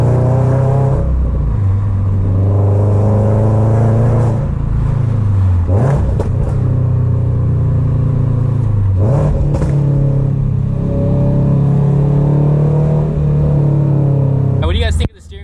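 A bagged 2022 Subaru BRZ engine rumbles deep and steady, swelling through several rev blips and settling back to a low idle, heard close up with a sharp bump near the end.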